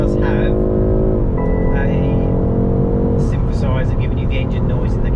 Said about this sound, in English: synthesizer giving you the engine noise in the cabin as well